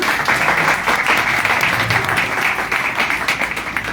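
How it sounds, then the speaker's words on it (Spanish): An audience at a law book launch in Tapachula, Chiapas applauds a university rector. The clapping is dense and steady and fills the space for several seconds with no talk over it. "les pido un fuerte aplauso también"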